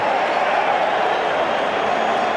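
Rugby stadium crowd at a South Africa versus France test match, a steady broad roar of cheering that holds loud and unbroken throughout, with no distinct claps standing out.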